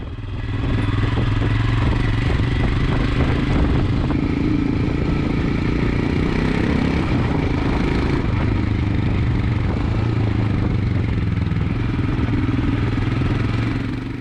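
A 2020 Royal Enfield Himalayan motorcycle rides over rough, rocky terrain, its engine thrumming steadily and loudly throughout with rattling and clatter from the bumpy ground.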